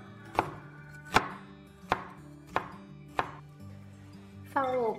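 A knife dicing red chili pepper on a cutting board, five distinct evenly spaced chops, close and clear, followed by a brief scraping sound at the end.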